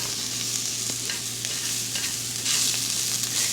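Rice grains sizzling and being stirred in a hot pot for Louisiana chicken and smoked sausage jambalaya, a constant close frying crackle with scraping stirs and a low hum beneath, no talking.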